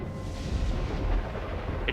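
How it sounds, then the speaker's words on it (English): Thunder in the Metaverse RP game, a continuous low rolling rumble that swells and fades unevenly at moderate loudness for the whole stretch, without talk. "It's thunder"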